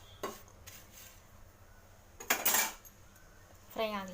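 Flattened rice dry-roasts in a pan with no oil or ghee, and a spoon scrapes and clatters against the metal in sparse, separate bursts over a quiet background.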